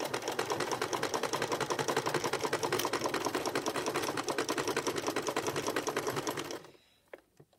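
A sewing machine runs steadily for about six and a half seconds, stitching fabric strips into a bowl with a fast, even rhythm, then stops and leaves a few faint clicks and handling sounds.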